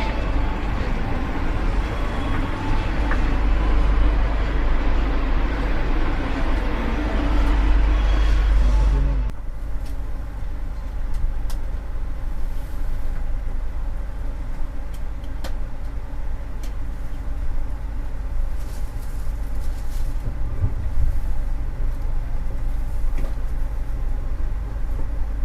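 Steady low rumble and rattle inside a carriage of the KA Progo passenger train running at night, loud and rough at first, then settling after about nine seconds into a quieter, even interior drone.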